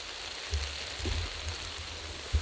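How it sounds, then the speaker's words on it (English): Rain falls steadily in a forest during a big storm with rolling fog, a soft continuous patter with a few low thumps from heavier drops or gusts, with no voices. "The fog is rolling in, and so is the rain."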